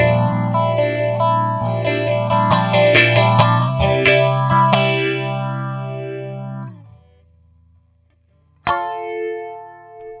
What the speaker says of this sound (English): Phaser King is connected after the preamp, and as you can hear, it takes high input levels just fine.